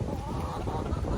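Strong wind buffets a microphone outdoors at a backyard chicken coop, a loud continuous low rumble with no let-up.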